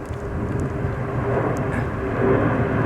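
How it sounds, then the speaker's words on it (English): A fixed-wing airplane drones steadily overhead outdoors, a continuous broad rumble that swells slightly louder toward the end, with no talk over it. "Hey, goddamn airplane."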